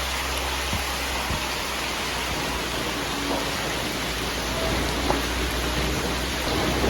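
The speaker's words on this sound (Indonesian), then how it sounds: "Nah nih suasana kandang umbaran kalau lagi hujan-hujan" Steady rain pours down over an open animal pen on a farm, a dense, even hiss that holds through the whole stretch with no voices, only a few faint knocks and drips standing out.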